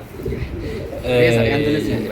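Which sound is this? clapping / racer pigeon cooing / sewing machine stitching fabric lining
racer pigeon cooing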